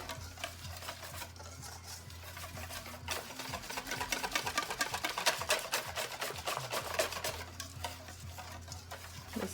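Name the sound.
whisking a mixture until fluffy and lump free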